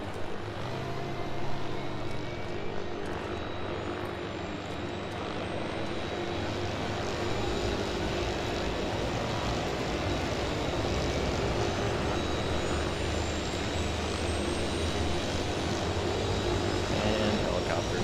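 A steady engine drone with rotor-like whir runs throughout, loud and continuous, resembling helicopters in a game, with faint talk underneath.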